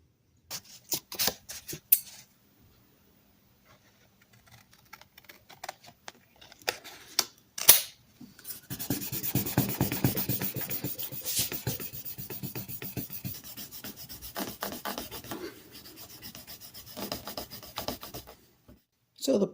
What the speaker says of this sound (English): So the plastic handle came out really nice after sanding.